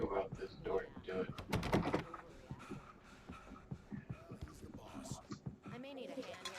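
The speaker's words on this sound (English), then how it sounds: "I have to go out this door to do it." A door opens in the video game Alan Wake with a solid thunk and a shuffle near the middle, set among game ambience and voices.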